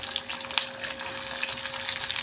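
Onions frying in hot oil give a loud, dense, continuous sizzle and crackle up close, with no voices over it.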